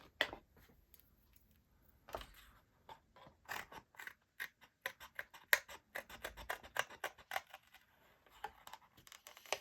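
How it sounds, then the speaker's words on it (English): Scissors snip steadily through a stamped card heart, with a quiet series of crisp, irregular cuts and small scraping clicks close by and no talking. "We'll then cut the heart out."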